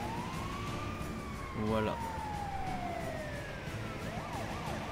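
Police siren wailing in the GTA V video game, a steady rising and falling tone that sweeps across the whole stretch, with a brief vehicle rumble and a short spoken word partway through.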